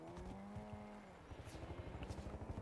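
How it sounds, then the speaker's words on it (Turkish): A car driving underground in the video game Warzone, a low engine drone with rising revs and a rhythmic chugging pulse, heard faintly in the background. "Adam yer altında araba kullanıyor Mehmet abi."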